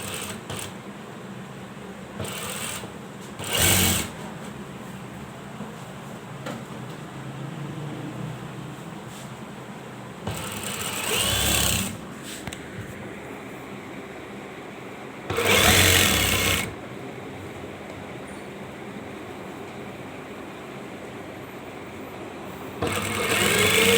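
A sewing machine stitches over the pleats of a ladies' belt shalwar in short bursts of rapid whirring. Quiet pauses fall between the bursts, and a soft low hum sits underneath throughout.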